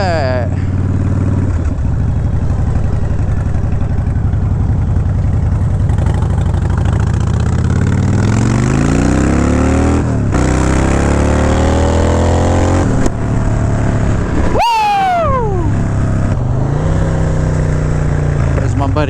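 A Fast Johnny motorcycle idles and revs loudly up close on a test ride, its engine pitch rising and falling through several throttle swells, with a sharp sweeping whine near the end and voices mixed in.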